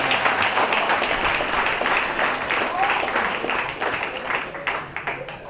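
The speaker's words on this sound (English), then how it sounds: "Give him a round of applause again" Round of applause for a speaker at a futsal program launch held at Remand Yard Prison, a crowd clapping loudly and steadily, then thinning and tapering off near the end.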